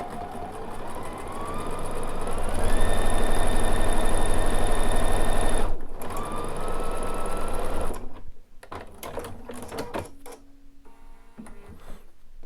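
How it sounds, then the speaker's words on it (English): A Bernina sewing machine fitted with an edge stitch foot runs steady top stitching, a fast even mechanical whir that speeds up and holds, pauses, then resumes more briefly before stopping amid light handling clicks. "we're just going to stitch her down."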